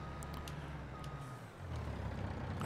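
Truck in the Farming Simulator video game reversing, with a low engine rumble and a quiet, high repeating backup beep. It stays faint throughout and ends with a brief air-brake-like hiss.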